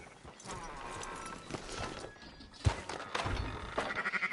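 Sheep in the Red Dead Redemption 2 video game, faint and fairly distant, with a wavering bleat near the end amid soft hoof clops and dull thumps.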